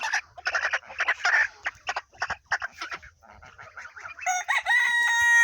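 A rooster crows loudly nearby, its long call rising and holding at the end, after a run of clucking and chicken chatter.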